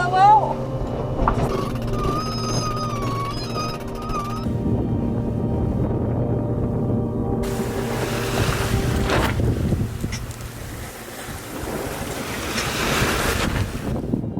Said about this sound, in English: Rolling around, flapping sail.